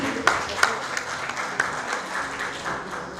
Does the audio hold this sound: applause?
yes